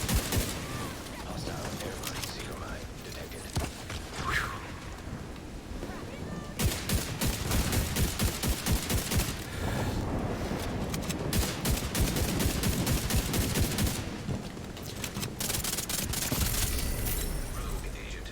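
Rifle gunfire in The Division 2 video game, fighting rogue agents: rapid, sharp repeated shots in bursts, densest through the second half, over game ambience and explosions, with no talk over the shooting.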